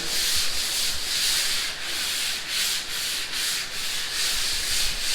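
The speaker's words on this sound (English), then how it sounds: "still sanding the mud and tape, getting that ready." Rhythmic sanding strokes on drywall mud and tape, a hissing scrape repeating back and forth roughly every half second, close and steady with no talking, at a house build site in the Philippines.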